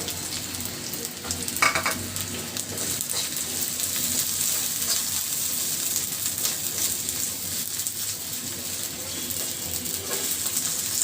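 Sliced green chillies sizzle steadily in a hot pan while being stirred, with a close, continuous crackle and occasional scrapes of the spoon against the metal.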